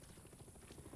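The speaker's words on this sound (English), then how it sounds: "Oh my god, is that a helicopter?" Helicopter in the Far Cry 6 video game, a steady low rotor thump and engine drone running continuously at moderate level with no voices.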